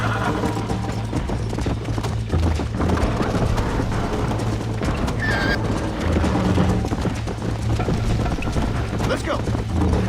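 Horse hooves clip-clop at a steady galloping rhythm with repeated neighs and whinnies in a cowboy video game, set over continuous game music and ambience, with a rider's voice calling out in places.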